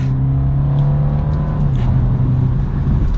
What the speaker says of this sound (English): as we downshift now, third gear around this turn